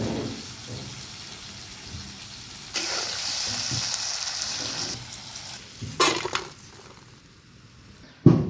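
Chopped onion and tomato frying in a pan for a spicy Maharashtrian onion-tomato bhaji, a steady close sizzle with occasional stirring clatters and a louder burst near the end, no talking.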